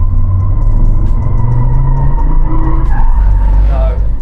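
An Audi RS3 slides its rear end while the stability control jabs the brakes, giving a loud, close tire skid and squeal over a low engine rumble, with a voice talking over it.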